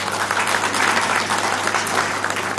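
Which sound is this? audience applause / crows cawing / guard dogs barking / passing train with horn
audience applause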